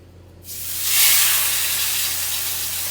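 Butter and minced garlic hit a smoking-hot oiled pan basting seared meat, bursting into a loud, close sizzle that peaks within a second, then settles into a sustained, slowly fading hiss, with no talking.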